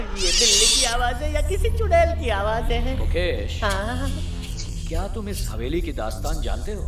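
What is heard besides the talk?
cat meowing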